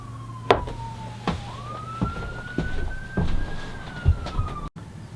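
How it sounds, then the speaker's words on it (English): A passing emergency vehicle's siren wails in a long, rising and falling tone from some distance, with sharp workshop knocks and clatter breaking in over it. "There's always a siren going by."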